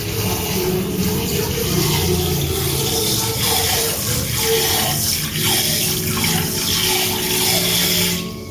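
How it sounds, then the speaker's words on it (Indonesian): Water splashes and sloshes steadily and close by as peeled soybeans are washed by hand in a container while making tempeh. "kalau sudah dikupas kulitnya kayak gini, kita cuci lagi agar bersih"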